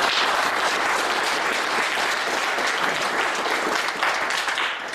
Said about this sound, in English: you've already got lots of claps